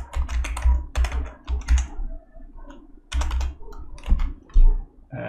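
Typing on a computer keyboard to enter a password at a sign-in prompt, a close run of crisp key clicks in short bursts separated by brief pauses.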